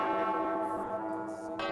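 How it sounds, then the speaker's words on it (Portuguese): Church bell rung by the sacristan during a novena prayer service, a sustained ringing tone with rich overtones that carries steadily throughout, loud and alone with no talk. "toca o sino, sacristão"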